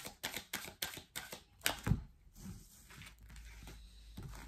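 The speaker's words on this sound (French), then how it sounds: "C'est pour ça que je le mélange comme ça" Oracle cards being shuffled by hand, a quick run of crisp riffling slaps and flicks at close range in a quiet room, followed by softer rustling and handling.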